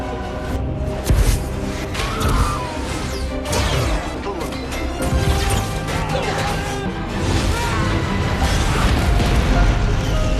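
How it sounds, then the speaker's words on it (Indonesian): Dense battle noise of gunfire, crashes, booms and bursts from the film Iron Man 3, layered over a driving music score, continuous and loud throughout. "Tembakan, ledakan di mana-mana."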